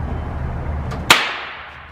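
A single firecracker bursts inside a Walmart store with a sharp, loud crack after a quiet stretch of background noise, followed by a short fading echo.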